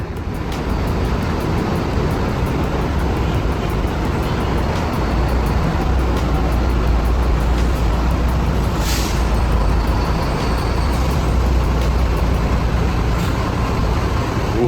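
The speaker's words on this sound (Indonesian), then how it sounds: "Kita lewat belakang ya, biar lebih dengar suara mesin ya." A loud, rumbling bus diesel engine on a Jetbus HD idles and drones steadily, heavy low-end vibration dominating, with faint hiss and mechanical clatter over it and no talking.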